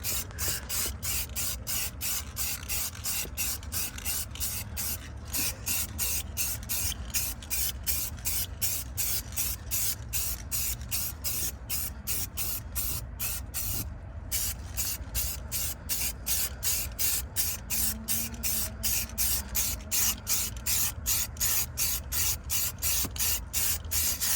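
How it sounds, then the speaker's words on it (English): Steady hiss of a spray gun painting a car's interior panels, continuing with a rapid regular pulsing texture and brief pauses, close and fairly loud throughout. "So right now guys, I'm spraying the interior."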